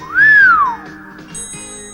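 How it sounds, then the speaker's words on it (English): A single wolf whistle, a sharp rising then falling swoop, rings out loudly as part of a production company logo, followed by a soft sustained musical tone. "His Ginger Productions logo even has a wolf whistle in it."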